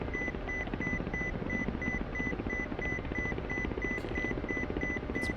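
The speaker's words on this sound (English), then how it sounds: "It's beeping at me." A repeating warning tone sounds in a Ka-50 helicopter cockpit in a flight simulator, a regular train of short, evenly spaced beeps over a constant rotor and engine drone.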